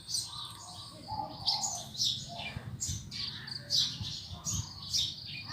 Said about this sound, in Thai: เสียงนก ลองเพลงเสียงนกเขาจุกู้จุกู้